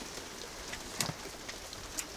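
Rain falling during a thunderstorm, a soft steady patter with a few sharper drops landing close by, fairly quiet and with no voices.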